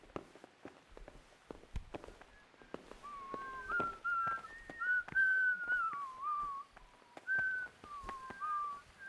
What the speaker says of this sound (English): Why are we whistling?